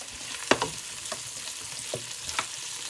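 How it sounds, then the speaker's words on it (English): Okra and tomato curry stirred in a frying pan, a low steady sizzle with a few sharp scraping and clinking strokes of the spoon, fairly quiet and close. "So I need to give that a stir."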